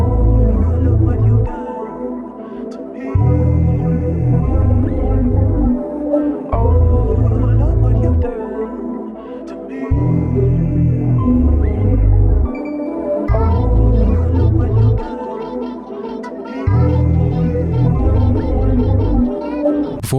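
A sample melody, arranged and then limited and pitched far down, plays continuously in a dark, heavy loop with booming low pulses recurring every couple of seconds, loud and steady throughout, with no voices.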